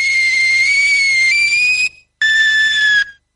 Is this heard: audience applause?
no